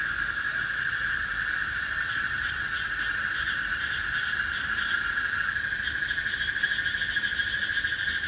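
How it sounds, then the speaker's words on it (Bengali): Insects calling at night outside a veranda after rain, a dense, steady shrill trill that holds unbroken and fairly loud throughout, with no talking. "ঝিঝি পোকা নাকি উই পোকার ডাক শোনা যায়।"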